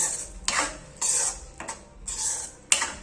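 A spoon clatters and scrapes in a pan while butter is stirred into Punjabi-style sarson ka saag (mustard greens): several distinct metallic clinks and scrapes come at irregular intervals, close and clear, with no talk.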